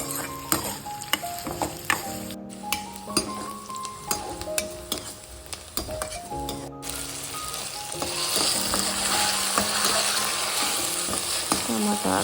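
Tomatoes fry and hiss steadily in a pan for an Indian sprouted moong dal gravy, with repeated scraping stirs and clinks of a spoon against the metal. The sizzle swells louder toward the end, and nobody speaks.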